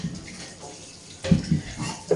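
Sweet peppers and a green chilli rinsed under a running kitchen tap, with a steady close splashing stream of water and a few louder bursts as the vegetables pass through the flow.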